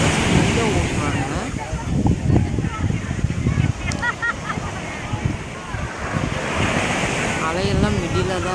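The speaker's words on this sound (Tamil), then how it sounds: "அலையெல்லாம் மிடில் தான் இருக்குது" Ocean waves roll and wash continuously onto Chavakkad Beach, loud and close, with wind buffeting the microphone and people talking faintly in the background.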